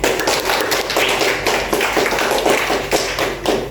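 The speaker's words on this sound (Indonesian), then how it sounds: "Tepuk tangan dulu." A classroom of students clapping their hands together in a quick, uneven patter of sharp claps for a few seconds, close and fairly loud, with no voices.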